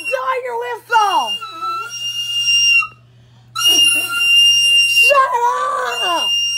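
A person whistles loud, high sustained tones in two bursts separated by a brief pause, while voices shout and talk over and between the whistling.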